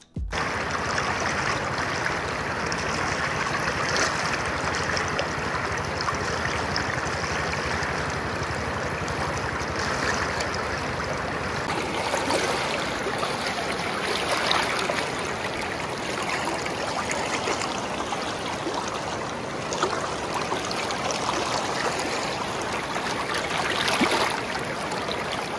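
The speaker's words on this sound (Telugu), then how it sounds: "ఒకసారి ఈ వాటర్ సౌండ్ వినండి." A fast-flowing river near Athirappilly rushes in a dense, steady roar of water, close and loud and unbroken throughout, with no talking.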